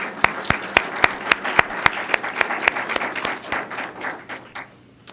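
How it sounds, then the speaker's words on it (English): Audience applause at a university engineering lecture on brain mapping, a room of clapping hands with several sharp, distinct claps standing out over a dense patter, steady for a few seconds and then thinning out as it dies away. "Please give them a round of applause for their hard work."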